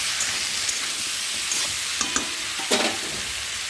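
Spices for a prawn curry with potato, taro and okra fry in hot oil, giving a bright constant sizzle broken by a few quick stirring scrapes, the loudest near the end.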